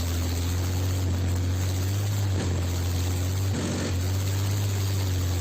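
A BMP-2 infantry fighting vehicle advances in combat amid artillery fire, its engine a deep, steady, heavy drone that runs throughout, broken by a couple of brief broadband bursts.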